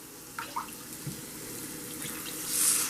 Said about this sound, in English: I'm adding my broth that came off the turkey wings.